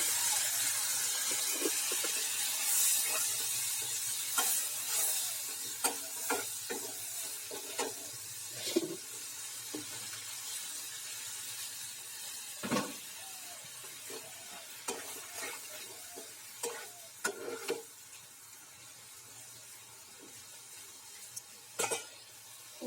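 Masala simmering in a pan after a little water is added, a soft continuous sizzle and bubbling hiss with occasional stirring scrapes and clinks of a utensil, quiet and close, no talk.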